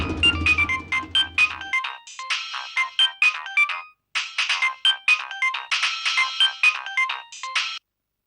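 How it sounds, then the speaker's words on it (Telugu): Mobile phone ringtone playing a bright repeating electronic melody, loud and close, cycling through several phrases with a brief pause in the middle and low background sound only at the start. "రింగ్ అవుతుంది కదా అని తీశాను."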